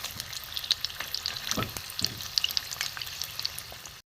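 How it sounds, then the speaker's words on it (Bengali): Flat bean fritters (shimer chop) deep frying in hot oil give a close, continuous bubbling sizzle with scattered crackles and a couple of soft utensil knocks, no voices. "একটু লাল লাল করে ভাজবো।"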